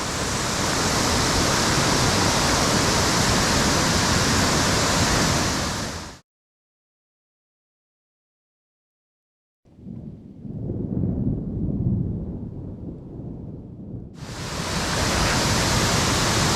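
A series of waterfalls roars with loud, steady, broadband rushing water, cut by a sudden silent gap before a quieter stretch and a return to the full, close roar.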